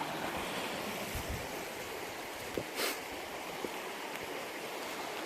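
Creek water flowing steadily beside a gold-prospecting spot on Black Mountain, a continuous close rushing wash with a few small splashes and no talking.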